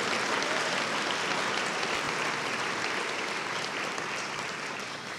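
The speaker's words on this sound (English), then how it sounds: "Let's give them a round of applause" A crowd claps steadily and densely throughout, a sustained wash of applause that fades slightly toward the end.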